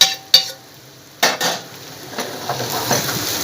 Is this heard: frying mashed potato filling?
yes